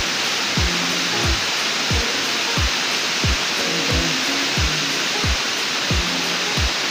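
Aruyan Falls in Sablayan, Occidental Mindoro pours with a steady, broad, loud roar of falling water. Repeated low thumps sound beneath the constant rush.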